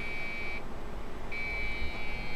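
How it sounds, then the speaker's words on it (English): A steady electronic motherboard error beep sounds from a Core 2 Quad Q6600 computer, cuts out briefly, then returns and holds, over a faint hiss. "It's just giving the beep error."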